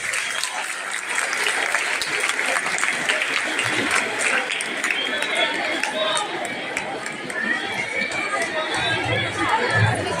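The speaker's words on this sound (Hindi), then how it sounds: "जोरदार तालियां, जोरदार तालियां।" Audience at a senior secondary school program claps vigorously in a continuous burst, with chatter and voices mixed into the clapping throughout and a few louder thumps near the end.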